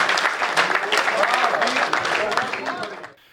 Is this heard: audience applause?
yes